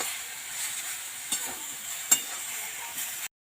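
Kalmi shak, water spinach, fries in mustard oil with salt, a steady soft sizzle with a couple of brief scraping stir clicks, close and alone, ending abruptly.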